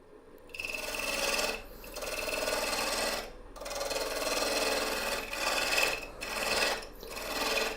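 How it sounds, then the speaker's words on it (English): A tool scrapes against a maple burl vase spinning on a wood lathe in several rasping passes of a second or two each, separated by short breaks, with a thin whine running through and a low hum beneath. "you can just keep turning the lathe on and off to make sure you're like not cutting in too far"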